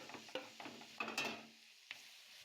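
Onions and spice powders roasting in a pan for a pork curry dinner: soft sizzling with several sharp scraping and clinking stirs of a spatula against the pan, close and fairly quiet, no talk.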